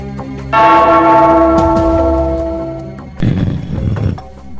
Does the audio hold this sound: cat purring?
no